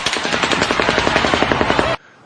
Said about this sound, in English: you have a rifle round striking the pavement followed by the low frequency sound effects afterwards